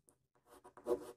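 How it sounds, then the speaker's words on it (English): A pen scratching out a chemical equation on paper or a board, a few short strokes close by at low level with pauses between, no voices. "I will write this equation here."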